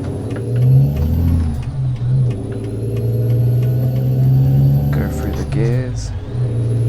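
A truck in American Truck Simulator rumbles with a low steady engine drone and slows with brake hiss toward a stop, while someone talks over it throughout.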